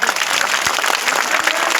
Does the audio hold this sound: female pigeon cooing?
no